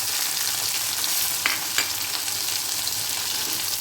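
Sambar thickened with sambar powder is stirred in a pot over a low flame, with a broad steady hiss from the heat and two brief utensil scrapes partway through. No talking.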